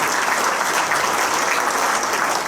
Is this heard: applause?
yes